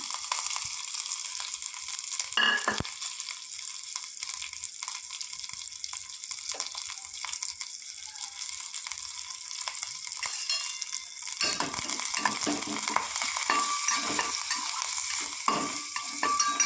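Tempering spices fry in hot ghee with a loud, continuous, close sizzle that runs the whole time, shifting slightly in texture partway through as the pan is worked.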